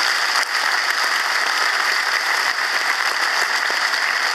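An audience at an Irish citizenship ceremony in Dublin applauds with steady, dense clapping that fills a hall and keeps an even loudness throughout.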